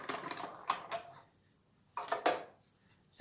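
A Cut and Emboss machine runs with a few sharp mechanical clacks and rattling bursts in two short clusters separated by a quiet pause, close by and without talk.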